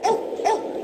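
A dog in a yard gives two short, sharp barks about half a second apart, close and fairly loud, with no talking.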